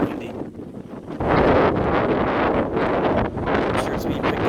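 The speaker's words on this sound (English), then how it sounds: "Very windy out here today," Strong wind on a Florida beach at low tide buffets the microphone with loud, continuous roaring rumble, swelling stronger after the first second and staying heavy throughout.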